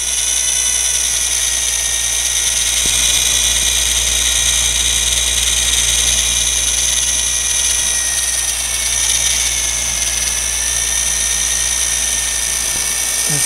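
A small six-bladed windmill generator with a tail spins steadily, giving a continuous, loud high-pitched whine with a constant drone beneath it, unbroken for the whole stretch with no talking.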